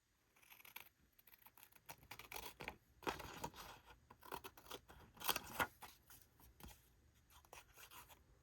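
Close, crisp snips of scissors trimming paper for a crafting journal pocket, a series of irregular cuts and rustles with short pauses between, no talk.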